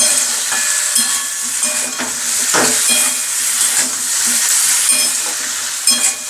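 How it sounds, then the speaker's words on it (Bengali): Soybean chunks and potatoes sizzle steadily as they are sautéed in a hot pan, with a close, continuous frying hiss and occasional scraping stirs. "অল্প অল্প করে কষিয়ে নিচ্ছি"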